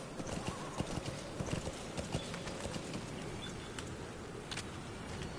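Horse hooves clip-clop steadily in Metal Gear Solid V: The Phantom Pain, a quick irregular clatter of footfalls up close with a brief whinny, over a constant dense background wash.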